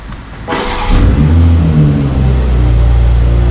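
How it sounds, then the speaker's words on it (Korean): A BMW 740i with a six-cylinder engine starts up cold, a quick crank burst followed by a loud, steady idle that settles into a deep rumble, heard close with no talking. "시동 한번 걸어보겠습니다."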